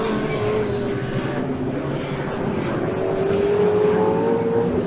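Super Saloon and Tin Top race cars roar around the Thruxton circuit, a loud sustained engine drone with a rising pitch as cars pass close by, no talk.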